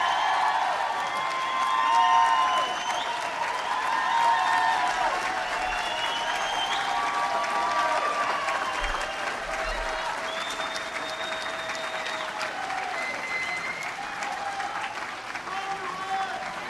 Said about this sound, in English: give a big round of applause for the best governor in the United States